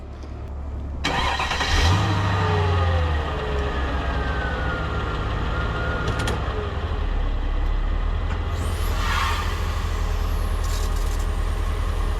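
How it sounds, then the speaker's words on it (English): A supercharged Mercedes engine with a hydraulic suspension fault cranks and catches, then settles into a steady low idle rumble that continues, with a few faint clicks and knocks. "I'm wondering if those valve blocks are leaking again. Either way, what I'm going to do is get in the car, start it up"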